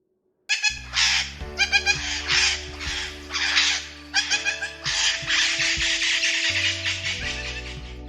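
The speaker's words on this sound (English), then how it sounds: "Macaw!" A macaw squawks repeatedly in loud, harsh bursts, a rapid run of raucous calls close to the listener with brief gaps between them.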